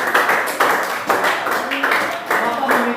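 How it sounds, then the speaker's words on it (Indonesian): Group clapping in a school classroom during a lesson, steady overlapping hand claps in several bursts, moderately loud with some chatter mixed in. "Iya, tepuk tangan lagi."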